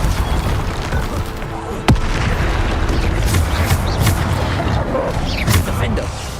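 Spell explosions from Bombarda in the Hogwarts Legacy video game boom and crash amid dense, continuous combat noise, with one sharp impact standing out and a voice talking over the din.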